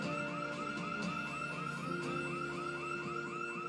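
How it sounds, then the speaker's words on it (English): A car alarm blares in the Project Zomboid video game, a steady rapidly warbling electronic wail that repeats in even cycles, loud and continuous with no voices. "Especially not when there's already alarms going off in the area."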